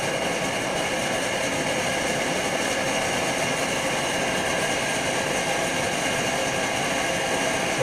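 Omnifuel stove burner with a flame plate, roaring steadily and broadly as its fuel valve opens, a constant, dense rushing that stays at the same level throughout without talk.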